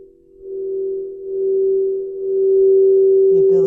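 Singing bowl used in a sound-healing and chakra meditation, a single sustained pure tone that hums steadily and swells gently in loudness, ringing alone without talk.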